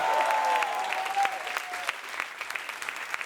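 A studio audience applauds at a French comedy show, dense clapping that starts strong and gradually thins toward the end, with a whistle and a few cheers rising over the crowd early on.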